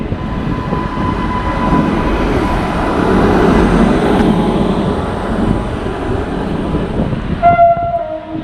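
A train pulls into a station on the Savarkundla to Bhavnagar line, with a loud, steady rumble of rolling wagons and wheels on rails that rises and then eases, followed by brief tonal squeals of braking near the end.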